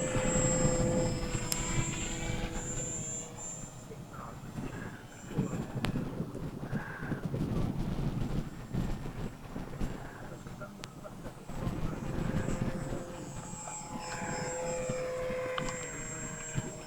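MayBee profile foam RC airplane flying in a light breeze, its electric motor whining steadily with pitch swells as it passes and maneuvers, heard outdoors without talk.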